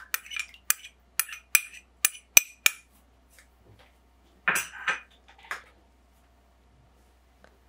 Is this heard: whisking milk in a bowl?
yes